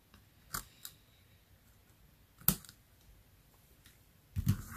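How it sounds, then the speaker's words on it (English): A few sharp snips of scissors cutting through card, spaced apart with quiet pauses between, close and crisp. "Hopefully these scissors will work."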